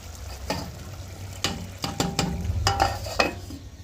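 Makhana curry simmers in a pot, a low bubbling bed under several crisp scraping stirs and clinks of a spoon against the metal vessel.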